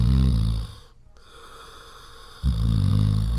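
A man snores loudly and close by, with one deep rattling inhale that fades into a quiet pause before the next heavy snore starts.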